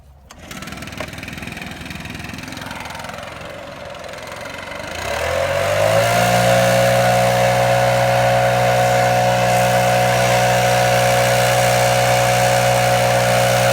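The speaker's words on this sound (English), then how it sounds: "we're going to see if this blower can move that heavy batch" A gas-powered backpack leaf blower, a Redmax 8500, Echo 770 or Stihl BR700, idles and then revs up to a loud, steady full-throttle roar as it blows a heavy batch of leaves outdoors.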